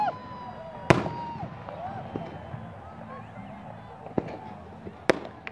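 Pakistan Day fireworks burst over Minar-e-Pakistan, with a few sharp, loud bangs spaced apart and whistling trails beneath a crowd's murmur and faint voices.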